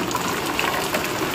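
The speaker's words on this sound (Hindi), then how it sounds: "कितनी जोर जोर से बारिश होने लग रही है" Heavy rain pours onto a tin roof during a downpour, a dense, steady roar of water with no breaks, close and fairly loud, with no talking.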